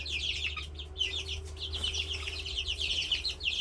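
Chicks pecking at apples, with a continuous busy chorus of high cheeping and clucking from several birds, moderately close over a low steady background hum.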